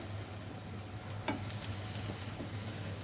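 A vegetable and cheese half-moon quesadilla cooking in a hot pan, producing a steady, moderately quiet sizzle with a couple of faint scrapes, close up and with no voices.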